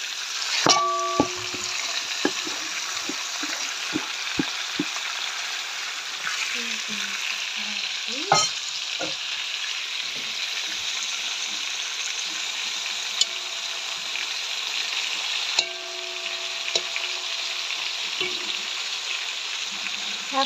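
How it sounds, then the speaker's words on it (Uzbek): Onions frying in a pan give a constant, even sizzle while a utensil stirs them, adding occasional clinks and scrapes against the pan at close range. "Yaxshilab qovurib, ustiga suv quyamizda"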